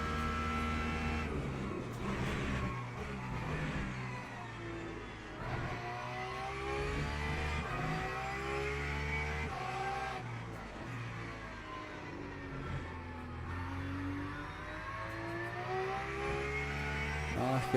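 Hypercars in a racing video game accelerate hard, engines revving and climbing through gears in repeated rising sweeps, loud and continuous with brief dips between shifts and no voices.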